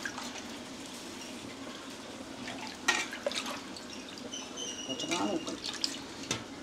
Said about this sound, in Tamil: தண்ணி கறியை விட்டுக்கிறீங்களாண்ணா?